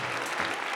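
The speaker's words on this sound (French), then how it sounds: "Applaudissez chaleureusement nos plus beaux modèles." Brief burst of dense audience clapping greets models at the start of a fashion show, loud and continuous for under a second.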